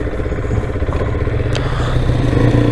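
An XTREME Supermoto 480 quad engine idles steadily close by while the rider shifts into reverse, with a low rumbling drone and a small mechanical clack partway through.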